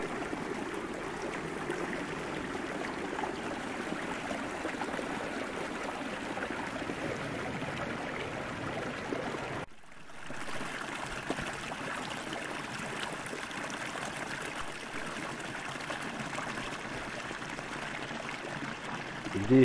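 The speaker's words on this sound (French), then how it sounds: "Bon bah là, il y a un ruisseau. Il descend des bois, des sapinières tout là-bas, et qui arrive ici" A small forest stream flowing down from fir woods, steady continuous rushing and trickling water close by, filling the whole stretch without pause.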